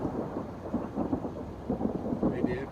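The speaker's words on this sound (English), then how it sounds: "A lot of rain." Heavy rain pours steadily while low thunder rumbles continuously, close and loud, with no talking.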